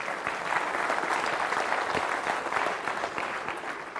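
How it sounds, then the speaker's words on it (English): An audience at the Great Indian Developer Awards applauds the winners with steady, dense clapping from many hands, loud and continuous for several seconds with no talk over it. "A big hand for all the winners."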